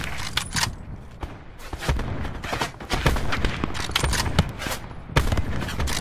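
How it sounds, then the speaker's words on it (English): Rapid bursts of video game gunfire crackle through a shooter match, dense volleys of close and mid-distance shots overlapping one another with little pause. "Hey, I'm getting shot from behind north"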